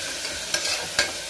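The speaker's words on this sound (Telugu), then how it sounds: "ఇవన్నీ బాగా ఫ్రై అవ్వాలన్నమాట" Capsicum and mixed vegetables stirred and frying in hot oil for chicken pulao, a soft steady sizzle with two brief scraping stirs of a utensil against the pan.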